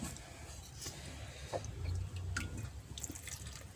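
Small splashes and trickles of water poured onto green chilli and tamarind for chutney, faint and close, with a few soft drips and a low background hum.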